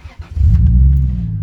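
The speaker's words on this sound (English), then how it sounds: "And it switches car back on." A Toyota Supra MK3 GT 3.0 engine cranks briefly, then catches and settles into a steady, loud idle close by, with no talking.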